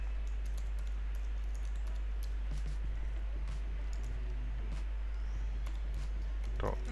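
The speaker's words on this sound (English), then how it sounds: "Let's type that in." Rapid clicking keystrokes on a computer keyboard while a domain name is entered, steady and close over a constant low hum, with a brief burst of louder clatter near the end.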